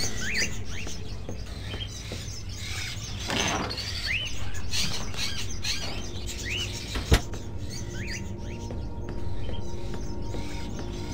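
Caged crows in the video game Fahrenheit: scattered chirps and calls over a murky ambient bed, with faint rustling and a single sharp knock midway, steady and moderately quiet throughout.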